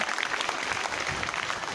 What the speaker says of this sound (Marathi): सर्वांनी टाळ्या वाजवायच्या.